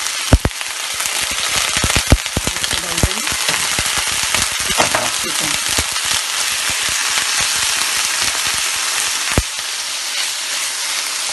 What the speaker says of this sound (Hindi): 1 टेबल स्पून ऑयल डालेंगे, थोड़ा सा गर्म हो जाएगा तो लहसुन अदरक डालेंगे